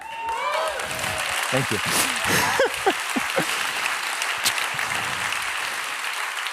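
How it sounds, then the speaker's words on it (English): Audience applause at a web design conference after a typography and accessibility talk, a broad patter of clapping filling the hall while a presenter speaks over it. "Applause for Toby."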